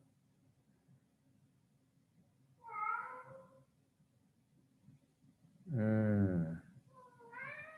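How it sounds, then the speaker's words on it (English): A domestic cat meows twice, loud and close, with a quieter third call starting at the end, over a low steady background hum; a person murmurs briefly. "That's one of my cats too. He likes a lot of attention."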